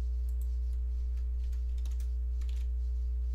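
Keys on a computer keyboard tap in an irregular, light patter, faint and close, over a loud, steady electrical hum.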